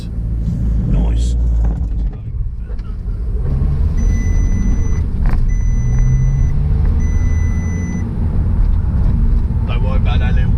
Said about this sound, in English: Don't worry about that little beeping, that's just telling me the oil's low